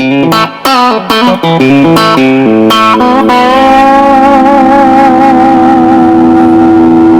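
A loud, heavily distorted electric guitar through a vintage tube amp plays a few quick picked notes, then holds a long, saturated sustained chord that rings out; no voices.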